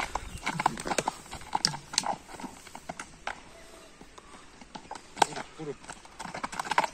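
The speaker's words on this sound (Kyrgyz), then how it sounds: "Атты мындай кичине нары бери бастырып" A horse is walked back and forth, its hooves clip-clopping in an irregular series of close, sharp strikes, with people talking over and between the steps.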